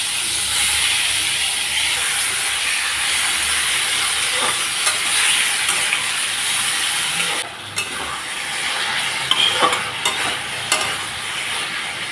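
Chopped vegetables hit a hot pan with black cumin tempering, onion, tomato, green chilli, turmeric and salt in a little oil for a fish dish, giving a loud, steady frying hiss with occasional faint clicks.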